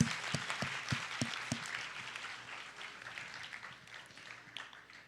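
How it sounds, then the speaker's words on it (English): Audience applause at a high school poetry slam, a dense, steady wash of many hands clapping that fades gradually, with a few sharper close claps early on. "So if we can give them all a round of applause."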